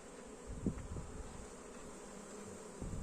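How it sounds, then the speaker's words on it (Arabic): Honeybees in a crowded hive give off a steady, low buzzing drone with a few soft knocks and handling sounds, fairly quiet and constant throughout. "الخلية ما شاء الله فيها نحل كتير ومش عارف يقف فين"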